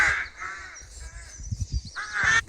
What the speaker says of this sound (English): Another murder of crows